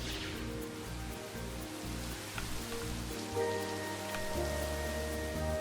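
Steady rain falls from rain clouds in the theme park game Planet Coaster, an even patter that continues throughout, loud and close, over sustained musical tones with no voices.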